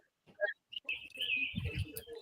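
A turkey calling outdoors, a few short chirpy notes followed by a sustained bright whistling call with some low rumbling background noise, no talk.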